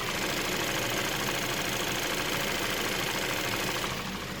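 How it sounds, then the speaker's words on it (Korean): A Chevrolet Impala 2500cc engine idles with a steady, even hum and faint belt whine, close by and constant throughout, no talking. "그리고 엔진 소음 먼저 들려드릴게요."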